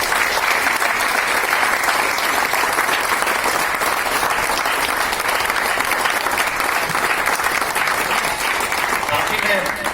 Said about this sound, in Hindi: उन सब के लिए मैं चाहूंगा कि एक बार फिर से तालियां।